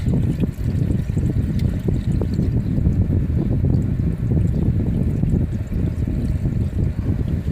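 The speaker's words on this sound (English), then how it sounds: "I'm going to tip it sideways and let some of the fluid drain out real quick." Transmission fluid drains from a tipped Trailblazer valve body in a steady, close, low trickling gush that runs continuously without pause.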